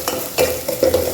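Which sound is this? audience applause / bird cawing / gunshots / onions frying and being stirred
onions frying and being stirred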